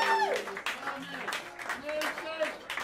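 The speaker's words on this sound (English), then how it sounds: "give him a big round of applause" Jazz club audience applauding a drummer, steady clapping from the crowd with someone talking over it.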